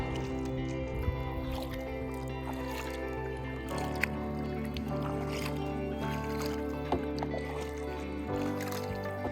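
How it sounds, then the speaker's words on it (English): Kayak paddling on Jackson Lake, with soft paddle dips, drips and trickling water near the boat under a steady low hum, fairly quiet throughout. "Ben's doing all the paddling right now because I'm videoing."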